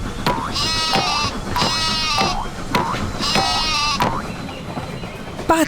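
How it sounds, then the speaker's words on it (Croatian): A sheep bleats four times in steady succession, each call clear, close and wavering, over a constant background bed. "Ovca."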